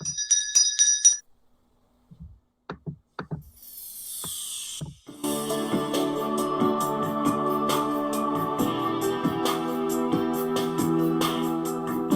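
A bright school bell rings briefly at the start of a last-bell ceremony, followed by a few scattered knocks, then a sustained busy mix of ringing tones and clatter for several seconds.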